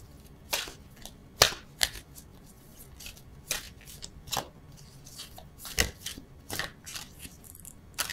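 A tarot card is pulled from a deck with a series of crisp, irregular papery snaps and shuffles, close and moderately loud over a quiet background.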